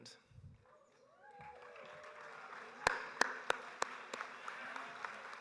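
Scattered hand claps from a few people at a Westminster Class of 2017 commencement ceremony: about half a dozen distinct sharp claps, fairly faint, over a low hall murmur.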